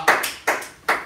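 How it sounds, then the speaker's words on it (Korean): People clap in a small group during an anniversary party, three distinct sharp claps in an even rhythm, close and fairly loud. "박수."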